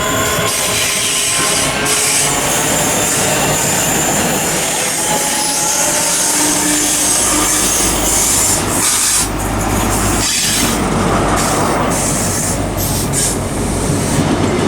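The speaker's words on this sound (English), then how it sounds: "Also arriving behind me is the 1033 LNER service from Inverness to London King's Cross" An LNER InterCity 125 set, power cars 43315 and 43307, running the Inverness to London King's Cross service pulls into Stirling station with a loud, steady roar of engines and rolling wheels. Faint squeal and clatter rise toward the end.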